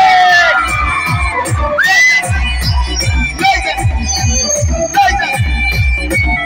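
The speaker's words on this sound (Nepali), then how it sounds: "अब हल्ला सुन्नु पर्यो" A festival crowd at the Mahashivaratri celebration in Siddhalek, Dhading, shouts and cheers loudly in a steady rhythmic chant, with pounding beats and shrill whistle-like cries rising above the massed voices.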